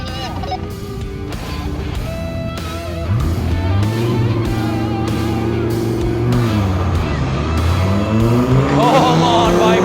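Dodge Viper V10 engine in a drag race, pulling hard from launch: a loud, rising howl climbs through the gears with brief dips at the shifts. A voice shouts faintly under the roar.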